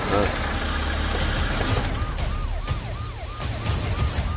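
A police siren repeatedly sweeps up and down in short wailing cycles over a steady engine rumble, with voices talking nearby.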